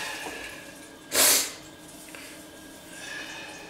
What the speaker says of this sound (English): Place the plunger over the waste hole and vigorously